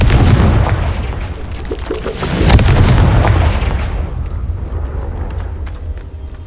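A Confringo blasting spell in Hogwarts Legacy goes off with a loud, heavy boom and rumbling burst, then fades into a low roar.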